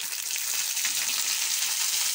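Onions and green chillies fry in a pan, giving a steady, dense sizzle that runs unbroken throughout at close range, with no talking.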